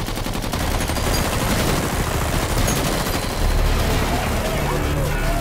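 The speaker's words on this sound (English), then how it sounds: "they're shooting at me" Dense automatic gunfire in Metal Gear Solid V rattles in rapid, overlapping bursts, a loud, continuous barrage with heavy low-end thumps throughout.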